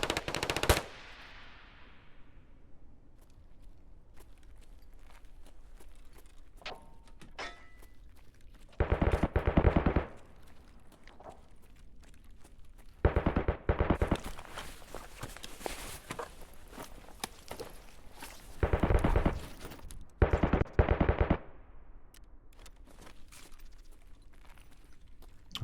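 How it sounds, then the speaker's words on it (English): Automatic gunfire in Escape from Tarkov comes in several loud, sustained bursts separated by quieter stretches with scattered single shots and faint footsteps. "Are they shooting at us?"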